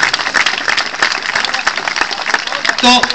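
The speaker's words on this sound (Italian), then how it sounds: "Un applauso, Diego Cavi!" Applause from a cabaret show audience, dense and continuous, with a voice briefly heard near the end.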